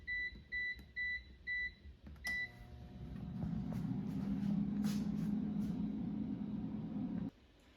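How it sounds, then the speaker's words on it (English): An air fryer set to 380 degrees Fahrenheit gives five evenly spaced electronic beeps, then a click starts a steady, fairly loud fan whir with a low hum that runs for several seconds before cutting off abruptly. "Now the air fryer is done cooking"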